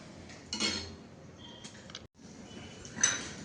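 A cooking pan is picked up and handled in a home kitchen while making potato gravy, giving a few light metallic clinks and knocks, quiet and close, separated by short pauses.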